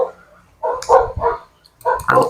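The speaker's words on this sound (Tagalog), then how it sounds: "Ang ingay ng mga aso dito sa bahay." Several dogs bark inside a house, coming in short loud bursts separated by quieter gaps, close by and echoing, with faint background noise between them.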